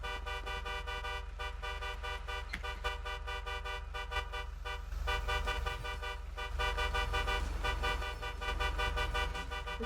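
A car horn sounds in a roleplay video game as a sustained, tonal honk that runs almost unbroken at a moderate level, with brief dips and shifts in pitch.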